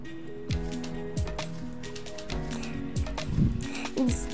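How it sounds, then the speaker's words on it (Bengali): Mustard greens being chopped small on a boti blade in a home kitchen, a series of soft, irregular cutting thuds and squishes close by with light clatter between strokes. "এবার মা শাকগুলোকে আমার বটিতে কেটে নিচ্ছে ছোট ছোট করে"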